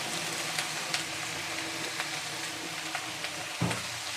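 Cauliflower and potato curry frying in a pan, with a soft, steady sizzle close by and a few small pops and stirring clicks.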